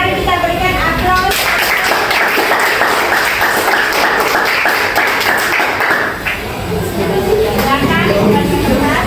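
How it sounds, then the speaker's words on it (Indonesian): Students in a classroom break into dense, lively applause that lasts about five seconds before dying away, with voices around it. "Kalau begitu mari kita berikan aplaus"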